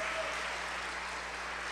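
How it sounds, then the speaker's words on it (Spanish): A church congregation applauds in a steady, continuous wash of clapping with no breaks, heard close and fairly loud for a short stretch. "Pues fuerte el aplauso a Cristo"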